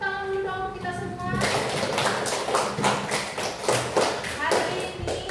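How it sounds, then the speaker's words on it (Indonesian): A classroom of children clapping hands together after their teacher's prompt, a rhythmic burst of claps starting partway in and continuing to the end, with a voice talking over the opening. "Tepuk tangan dulu dong kita semua."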